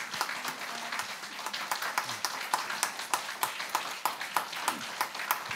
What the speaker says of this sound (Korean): 여러분 뜨거운 박수로 맞이하겠습니다.